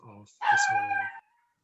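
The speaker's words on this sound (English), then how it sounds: "Sorry for the barking. Something had set him off." A single pet dog lets out a short, drawn-out howling bark at home, a brief tonal yowl heard clearly and close, stopping abruptly into quiet.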